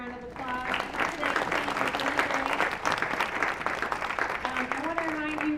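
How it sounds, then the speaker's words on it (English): A crowd at a public health training session claps for its speakers and panelists, dense applause lasting several seconds while a voice talks over it. "let's give our speakers and our panelists a big round of applause"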